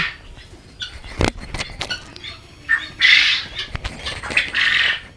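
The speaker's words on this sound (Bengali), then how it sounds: "এখানে তিনশো পিস কোয়েল পাখি আছে" Loud, shrill squawking and chattering from a crowd of about three hundred quail on a quail farm, up close, with bursts of calls and scattered sharp clicks.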